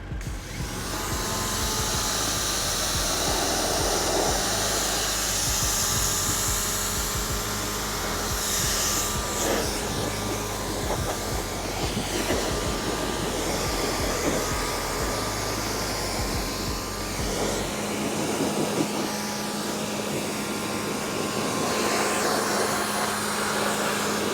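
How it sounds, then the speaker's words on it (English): Pressure washer spraying bugs off a car's front, a loud continuous motor drone and high rushing water hiss that shifts as the spray moves, then drops to a lighter stream near the end. "I'm gonna hit it with pressure washer."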